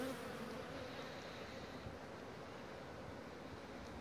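Dense, steady droning of many honeybees at the hive close by, a continuous insect buzz with no voices.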